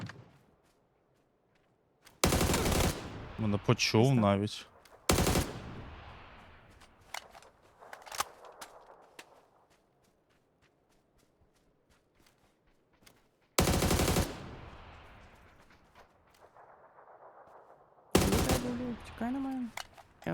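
Bursts of rapid automatic gunfire in PUBG on the Sanhok map, several loud volleys separated by quieter gaps with scattered shots and people talking.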